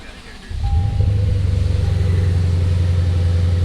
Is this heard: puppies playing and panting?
no